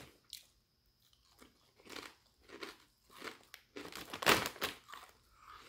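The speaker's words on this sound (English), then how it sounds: "They're really crispy." Crispy cinnamon sugar Stacy's pita chips are chewed close to the microphone, a series of irregular crunches that build to one louder bite before trailing off, with no talking.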